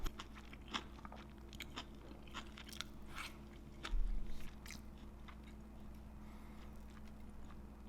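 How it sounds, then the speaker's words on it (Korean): Grilled deodeok root is chewed close to the microphone, giving soft, irregular crunches and bites over a low steady background hum, with one louder crunch midway. "먹겠습니다. 네. 더덕."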